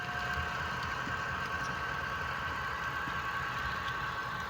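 An HO scale model train switch engine runs steadily on a layout, giving a continuous low mechanical hum and rumble with a faint steady tone throughout, no voices.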